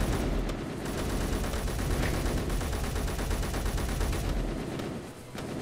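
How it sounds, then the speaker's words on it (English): Gunfire from assault rifles and a flare gun in the video game Space Engineers, heard as a dense, loud, continuous barrage of overlapping shots that eases off slightly near the end. "you nearly shot your own man then with the flare"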